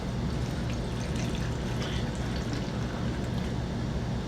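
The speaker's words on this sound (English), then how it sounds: "I wanted to pour the water inside of here" Water is poured into a homemade baking soda volcano, a steady, continuous splashing pour that stays level for several seconds with no talking.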